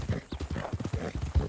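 Horse hooves clip-clop at a steady walking rhythm in Red Dead Redemption 2, a close series of muffled thuds with a few louder steps, carrying on alone with no talk over it.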